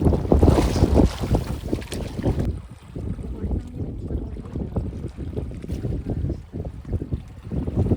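Wind blowing across Dudhani Lake in the evening, a steady loud rumbling gust buffeting the microphone throughout, with faint water and boat sounds underneath.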